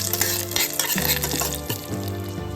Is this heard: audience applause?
no